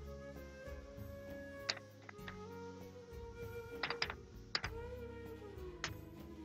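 Quiet keystrokes on a computer keyboard while searching for Control Panel in Windows, an uneven run of soft clicks with a few sharper taps, close by over a low steady hum.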